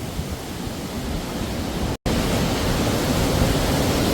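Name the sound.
strong wind storm blowing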